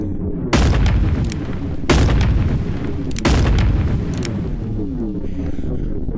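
Glitch gun in the VR game Animal Company firing three heavy booming shots, each a loud blast with a rumbling tail, spaced about one and a half seconds apart.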